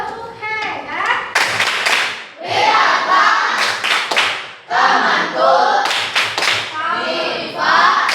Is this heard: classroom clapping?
yes